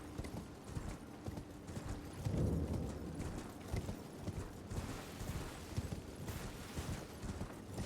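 Hooves clip-clop steadily throughout as a horse gallops across open ground in Elden Ring, a continuous rhythmic drumming at moderate loudness with no voices over it.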